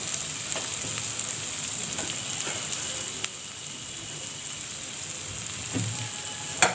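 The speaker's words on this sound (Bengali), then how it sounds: "দেখো তেলটা পুরো ছেড়ে দিয়েছে। এবার দিয়ে দেবো এখানে টমেটো।" Chopped tomato sizzling in hot oil for ghugni, a steady, moderate crackle and hiss with a few sharper pops and stirring clicks, no voices.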